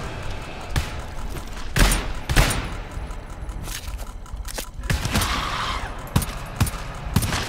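Rapid bursts of automatic gunfire from the co-op shooter GTFO, loud and close, with sharp shots clustered through the stretch and brief gaps between volleys.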